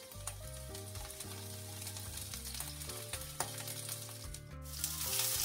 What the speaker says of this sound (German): Braten Sie die Zwiebeln bei hoher Hitze an.